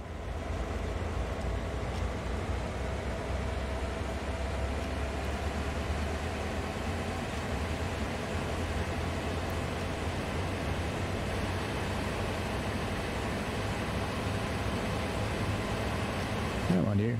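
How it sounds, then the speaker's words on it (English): Diesel locomotive in Train Sim World 2 throttling up through its notches, a steady loud droning engine rumble with a faint high whine, constant throughout with no talk. "So we'll speed the locomotive up, and you can hear it speeding up."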